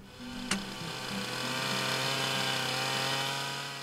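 On a steep mountain slope, trail workers cut wood with a power saw that runs as a steady, dense motor whine, with a sharp knock early on and a slight swell in loudness through the middle. No one talks.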